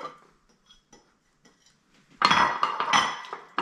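A meatloaf mixture is tamped down into a baking dish, giving a quiet pause and then a close burst of clattering, scraping dish and utensil noise in the second half.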